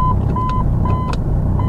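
A diesel Jeep Cherokee engine idles with a close, rough clattering rumble, while a repeated electronic beep chimes over it at an even rhythm.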